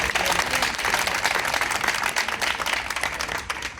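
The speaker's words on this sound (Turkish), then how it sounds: "Bilmiyorum alkışı onlar da hak ediyorlar mı, hak etmiyorlar mı?" A crowd at a Turkish public gathering applauds continuously and loudly, dense sustained clapping with no speech over it.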